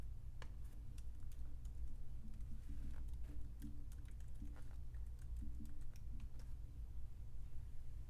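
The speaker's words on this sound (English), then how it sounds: "go to the internet and type in hourofcode.com" Quiet tapping of a computer keyboard as a web address is typed, irregular light clicks in short bursts over a low steady room hum, close and without speech.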